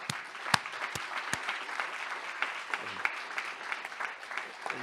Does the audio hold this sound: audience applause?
yes